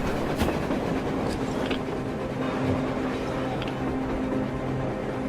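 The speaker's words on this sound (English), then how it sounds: "A train! A damn train on the surface!" Train rumbling past on the surface in the video game Metro Exodus, a steady loud rolling drone with hum and faint rattling throughout, no talk.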